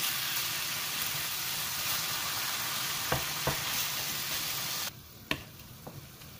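Ground meat sautés in a pan with a continuous sizzling hiss and occasional spatula taps, the frying dropping sharply quieter near the end.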